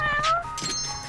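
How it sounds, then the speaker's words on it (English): A cat meows a few times inside the crime-drama game Judgement, with the first cry loudest and later ones softer, against a steady low background hum. "Sounds like the cat noise is coming from outside."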